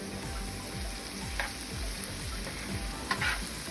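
Garlic and shallots fry and sizzle in a pan while being stirred, a steady close crackle broken by a few louder scrapes and clatters.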